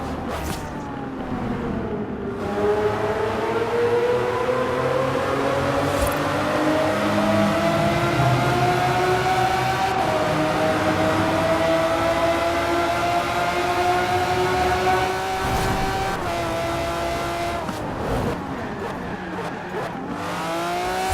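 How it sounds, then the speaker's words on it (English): A car engine in the video game Forza Horizon 4 revs hard through rising gear pulls, a loud, sustained high-pitched whine that climbs, drops briefly and climbs again, with tire noise near the end. "What do you all think about the new car sounds that they've added into this game?"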